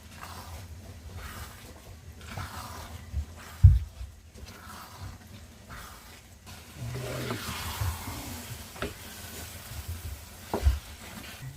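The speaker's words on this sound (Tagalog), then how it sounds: "Hahaluin lang natin para hindi matutong yung ilalim." Sticky rice suman mixture is stirred in a pan, giving soft scraping and a faint sizzle with occasional sharp knocks of the spoon against the pan, quiet and intermittent.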